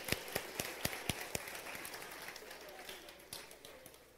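A church youth-group audience claps, the sharp claps landing in a steady rhythm for the first second and a half. The clapping then blurs into looser, fainter applause with some voices mixed in.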